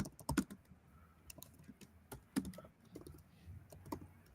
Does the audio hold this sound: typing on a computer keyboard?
yes